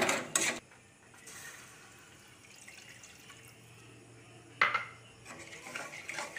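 Milk and chicken stock are stirred into a white sauce in a pan, with a spoon clinking against the metal, soft liquid swishing and sharp clatters at the start and midway.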